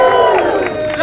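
A crowd shouts and cheers at an outdoor haggis eating competition hosted by McIntosh Foods, a loud, close burst of mixed voices rising together in rowdy encouragement.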